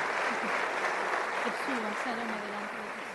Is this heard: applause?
yes